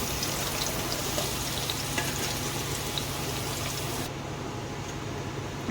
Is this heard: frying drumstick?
yes